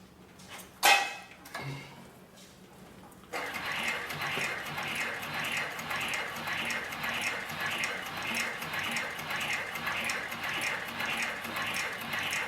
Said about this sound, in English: we'll sew this piece of 10 to 12 ounce leather to the piece of 5 ounce.